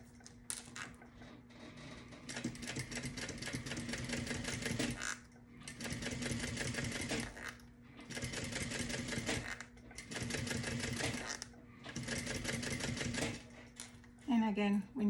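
A sewing machine stitches a convertible tote bag in several rapid bursts of a few seconds each, separated by short pauses, close and clear, with a few quiet remarks from a person between runs.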